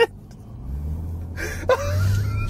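A Jeep Trackhawk with a stuck accelerator roars at high revs, a loud low rumble that builds steadily, broken by short bursts of startled voices.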